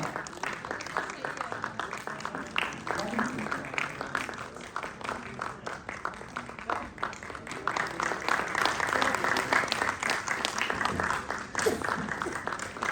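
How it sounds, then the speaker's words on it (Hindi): A crowd at a yoga conference honouring ceremony at a Sanskrit university claps in sustained, moderately loud applause with a dense patter of hands that runs throughout, swelling slightly near the end. "जोरदार तालियां टीम से अनुरोध करूंगा"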